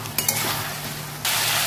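Potatoes with chilli, turmeric, cumin and coriander powders sauté in a pan, giving a loud, even sizzle with a couple of small clinks early on and a hiss that swells near the end.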